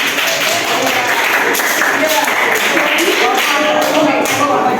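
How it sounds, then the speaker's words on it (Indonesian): A classroom group applauds a student, Mas Diki, with dense, steady clapping filling the whole stretch, close and loud, with voices chattering underneath. "Tepuk tangan dulu Mas Diki"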